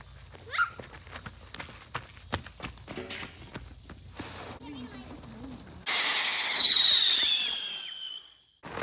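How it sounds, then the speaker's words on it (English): Fireworks set off at a Fourth of July evening on a large family farm: scattered small pops and thumps with distant dog barks, then a loud sustained hissing, crackling burst near the end. "we're getting ready to do our fireworks and end our evening with a bang."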